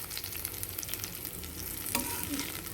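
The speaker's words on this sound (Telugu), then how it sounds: "ఇది చక్కగా వేయించుకున్నాం" Chicken 65 frying in hot oil, a steady close crackling sizzle with light stirring throughout and a brief sharper crackle near the end.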